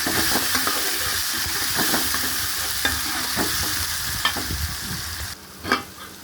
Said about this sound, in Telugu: టమాటా కోసేసుకున్నాను ఇది ఇలా ఫ్రై చేసేసుకోవాలి